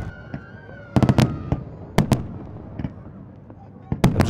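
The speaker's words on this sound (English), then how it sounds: "The fireworks were great and they were really fantastic." Fireworks burst at a display in a rapid series of sharp cracks and booms, some in tight clusters, with crowd voices and talking underneath.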